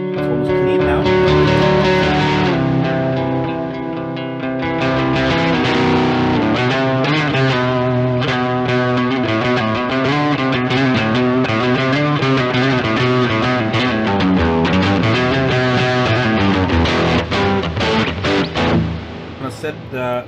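Distorted yet fairly clean electric guitar playing chords and melodic runs, close and steady, with effects coloring the tone throughout.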